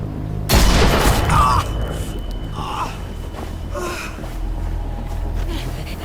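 A gunshot in The Walking Dead Telltale video game cracks out loud and close near the start, a sharp broadband blast that leaves a low rumbling tail, with scattered vocal gasps and effort sounds following.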